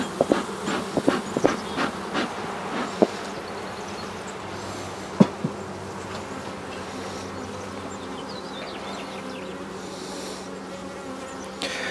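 Honeybees buzz steadily around an open hive during a routine inspection, a dense continuous drone close by with a few sharp knocks and clicks of boxes and frames early on, no voices.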